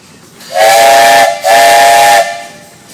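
A steam engine once used by the Elkhart County Highway Department to grade roads sounds its whistle at a 2010 steam engine show in Rushville, Indiana: two loud, close blasts, each about a second long, separated by a brief gap.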